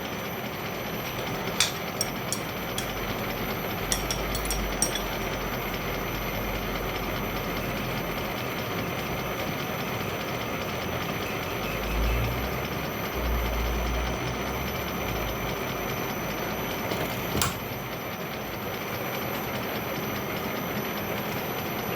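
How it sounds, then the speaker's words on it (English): A small Colchester Student lathe running at about 300 RPM gives a steady, continuous mechanical hum and whir, with occasional faint clicks and a slight low rumble midway, and no one talking. "300 RPM is a good speed for this little machine"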